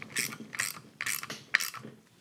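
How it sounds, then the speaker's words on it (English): A cheap valve spring compression tool ratchets on an LS V8 cylinder head during a valve spring swap, four crisp bursts of clicking in a quick, even rhythm, close and fairly quiet. "So this is a valve spring compression tool."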